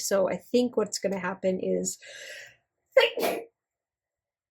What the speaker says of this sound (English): that was a sneeze that just snuck up out of nowhere.